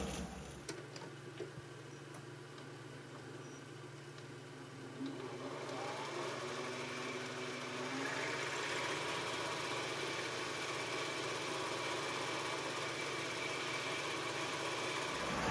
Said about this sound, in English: So I'm going to counterbore it at least a ½ inch with a 5/16 drill.